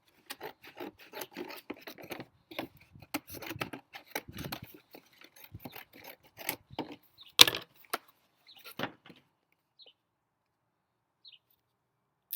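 Scissors snip and rasp through an empty Cheez-It cardboard box with a plasticky coating, a close series of irregular crunching cuts for several seconds that then trail off into a few isolated snips.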